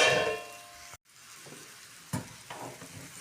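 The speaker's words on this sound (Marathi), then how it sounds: "टाकूया भेंडी आता याच्यामध्ये." Fresh okra goes into a hot pan and fries with a steady sizzle, cut by a brief silence and then stirring clatters, close and moderately loud, with no talking.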